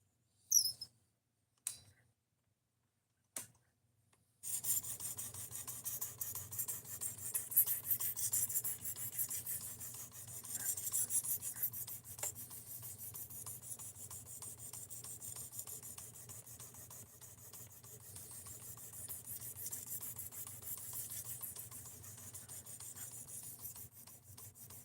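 A blade is stroked across a fine ceramic sharpening stone of about 8,000 grit. Three faint taps come first, then a continuous soft, gritty rasp runs quietly and evenly to the end.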